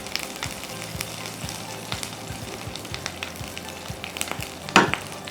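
Curry leaves fry in hot oil on a stove for a Sri Lankan curry powder, giving a soft steady sizzle with scattered crackles and one sharper burst of spattering near the end, with no voice.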